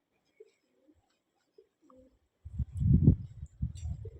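A pigeon coos low and soft in short bursts near the end, after a few faint scattered sounds, while a sick bird is being cared for at home.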